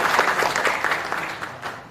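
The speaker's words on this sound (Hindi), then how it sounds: "एक बार जोरदार तालियां बजाना चाहिए" Audience applause at a political address by Imran Pratapgarhi, a dense, steady wash of many hands clapping that stays loud through the short stretch without speech.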